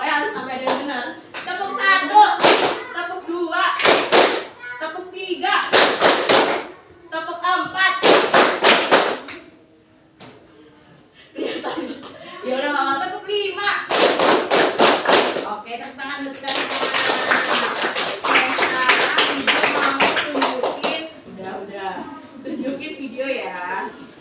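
Children clap their hands in a counted rhythm, in short bursts of sharp, loud claps separated by pauses, with voices speaking between and over the claps.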